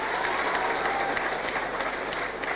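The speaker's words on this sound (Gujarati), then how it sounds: "ખરેખર એમની મધર માટે એક જોરદાર તાળી પાડો" A large audience claps in steady, dense applause that holds at an even level for a couple of seconds, with no voices over it.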